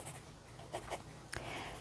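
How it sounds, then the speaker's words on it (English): A pencil scratches on paper in faint, quick strokes, a few short scribbling bursts separated by brief pauses, close and quiet with no speech. "Don't forget to turn your pencil."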